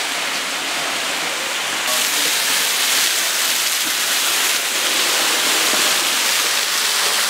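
Water pours from a small fountain in Red Rock Canyon, making a steady, loud, unbroken rush that fills the whole stretch with no voices.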